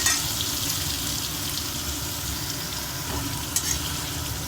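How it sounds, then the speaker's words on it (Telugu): Paneer and meal maker (soya chunks) fry in a pan for paneer meal-maker biryani, giving a steady, close hiss with faint stirring scrapes and a brief clink near the end. "మీల్ మేకర్ కూడా ఫ్రై చేసుకుందాము ఇట్లానే"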